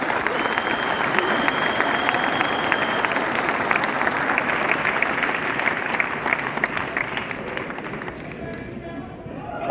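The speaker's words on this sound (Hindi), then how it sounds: "ताली बजाओ" Seminar audience clapping in a long, dense burst of applause filling the hall, loud and sustained before gradually thinning out near the end.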